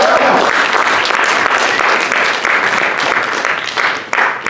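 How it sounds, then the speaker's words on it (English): A crowd applauds Kyle Adams at an evening storytelling event, with sustained, full clapping from many people that stays loud throughout and dips slightly toward the close. "Another round of applause for Kyle Adams."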